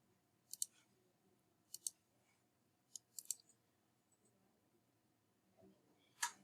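Sharp computer mouse clicks in a spreadsheet session, about five separate clicks, some in quick pairs, spaced over several seconds against quiet room hiss; no talking.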